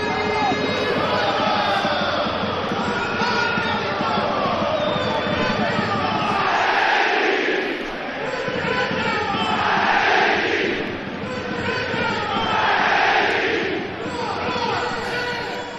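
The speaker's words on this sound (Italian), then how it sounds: "Ed è il boato qui" A large stadium crowd in a football management video game roars and swells in waves, rising loudly several times under an excited Italian commentator's voice as Foggia equalise.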